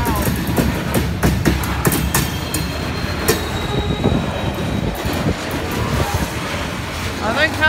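A loud train of all-metal cars with metal wheels and brake shoes rumbles past up close, a dense roar with rapid clickety-clack wheel beats and a rising metallic squeal near the end.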